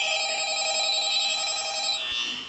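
A telephone rings in the horror video game Five Nights at Freddy's, one sustained electronic bell tone with a bright buzzing timbre that holds steady and loud, then cuts off near the end.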